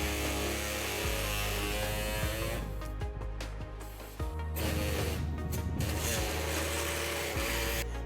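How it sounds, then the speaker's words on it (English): A pneumatic air saw trims the heat shield on a 2013 Nissan Versa during a trailer hitch install, giving a steady, loud, close buzzing drone with a few brief dips. "I will be trimming this with an air saw today."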